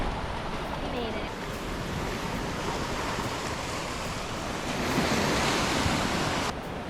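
Ocean waves wash onto the beach at Anse Source d'Argent on La Digue, Seychelles, a broad continuous roar of surf mixed with gusty wind rumbling against the microphone and swelling slightly louder near the end.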